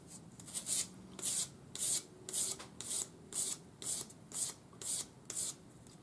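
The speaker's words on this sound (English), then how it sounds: "Now we'll use a sanding stick with 400 grade wet or dry paper on it" A sanding stick with 400-grade wet-or-dry paper rubs over the solder joins of a metal ring, a steady back-and-forth scratchy rasping in about a dozen regular strokes, close and fairly quiet, with no talking.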